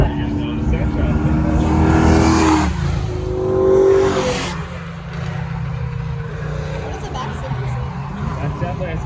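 A G-body drag car at a spectator drags event accelerating down the strip, a loud engine roar that rises and swells, then recedes into distant rumble, with people talking over it.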